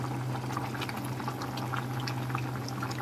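Pork cubes boil in a pot of water for dinuguan, a steady bubbling simmer with a low constant hum underneath, close and moderately quiet.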